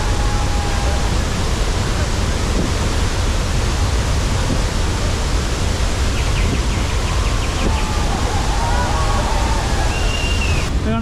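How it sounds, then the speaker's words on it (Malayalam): Athirappilly waterfall roaring in heavy rain, heard up close as a loud, unbroken broadband rush that stays level throughout, with faint bird calls and voices barely audible beneath it. "ഈ വെള്ളം ചാടുന്നതിൻ്റെ എറിച്ചലാണ് ഈ വന്ന് ചാടുന്നത്"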